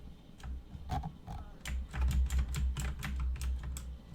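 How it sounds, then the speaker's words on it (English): Mechanical computer keyboard typing in bursts of sharp, close clicks and clacks over a low hum, with no talking. "my mechanical keyboard can be heard really nicely right now"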